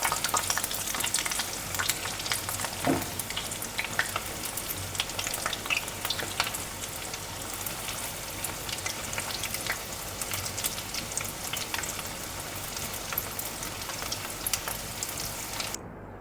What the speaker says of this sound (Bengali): আমার মাছ এক পিঠ ভাজা হয়ে গেছে। এবার মাছটা আমি উল্টে দিচ্ছি